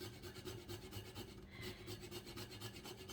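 Whole nutmeg is rubbed rapidly against a fine grater, giving a close, soft, rhythmic scraping in quick regular strokes, faint and steady without talk.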